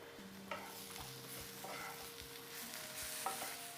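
Cumin and chilli powder frying in a pan, a faint low sizzle with repeated soft stirring scrapes and light taps of a spoon, close and quiet with no voices.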